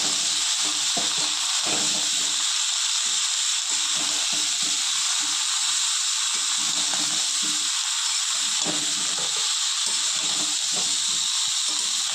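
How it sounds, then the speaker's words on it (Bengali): Mixed vegetables fry in a pan for a Bengali vegetarian curry, giving a steady, loud hiss and sizzle throughout with faint stirring clicks underneath and no talking. "সবজিগুলো হালকা একটু ভেজে তারপর আমি জল দিয়ে দেবো।"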